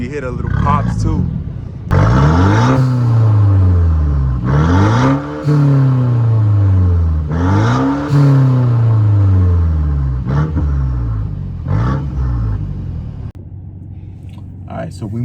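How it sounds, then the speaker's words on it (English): A Mercedes C300 exhaust revs again and again in loud, close surges, with small pops and crackles between the rising blasts while people talk nearby. "And you hear it popping too. You hear the little pops too."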